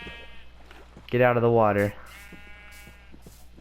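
A single loud Minecraft sheep bleat, a wavering harmonic cry lasting under a second, rises mid-clip inside a survival game world, while someone speaks briefly before it.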